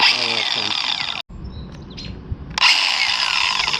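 A drill spinning a 1 inch diamond core hole saw meant for marble, granite, tile and porcelain, heard as a loud whine that cuts off, pauses briefly and then starts again.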